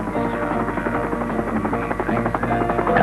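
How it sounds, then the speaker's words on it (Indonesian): A helicopter transporting mining cargo in Indonesia gives a loud, steady rotor drone and engine hum that lasts throughout, with faint background noise underneath and no talk. "Beban paling berat yang dapat diangkut helikopter ialah 800 kg."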